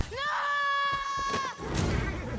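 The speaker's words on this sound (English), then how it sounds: "Then Nova stands up and screams." A woman lets out a long, high, sustained scream in a Planet of the Apes film, loud and close, cutting off after about a second and a half into rough noise and movement.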